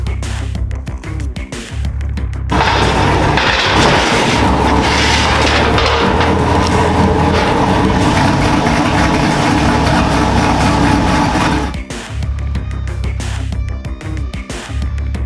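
A heavy truck engine at a shop roars to life partway through, running loud and steady with a deep rumble for about nine seconds before cutting off abruptly, leaving quieter background noise on either side.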